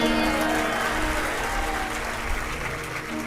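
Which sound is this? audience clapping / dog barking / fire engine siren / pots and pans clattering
audience clapping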